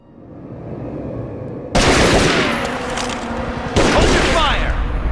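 Gunfire in the Tomb Raider: Legend video game, loud automatic bursts erupting suddenly and rattling on continuously, with a second burst hitting near the end.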